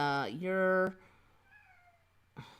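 A cat gives one clear, loud meow with a pitch dip at the start and a sustained middle. Quieter rising tones and a faint short cry follow, with a soft voice nearby.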